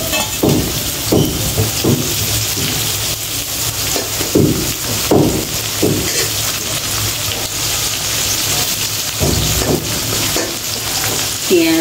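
Onions, potatoes and garlic fry loudly in a pan with a continuous close sizzle. Repeated scraping stir strokes cut through the hiss at an uneven rhythm.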